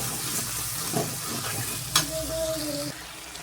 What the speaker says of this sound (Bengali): আবার কিছুক্ষণ নাড়তে থাকি। আদা রসুনটা একটু ভাজা হয়ে যায়